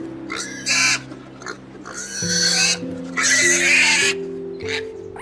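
A pig grunts and snorts in several rough, close bursts over steady background music.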